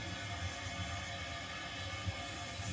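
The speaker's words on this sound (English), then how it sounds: "the 8:55 stopping goods to Podder Lane gets underway" An O gauge model goods train moving off on a layout, a low continuous rumble of motor and rolling wheels with faint rhythmic clicks, quiet and steady, no voices.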